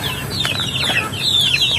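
Pet chickens at afternoon feeding, several close birds giving high rising calls and clucks in quick succession, with a few flutters of wings.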